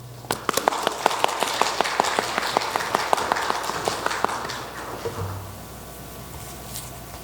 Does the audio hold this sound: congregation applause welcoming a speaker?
yes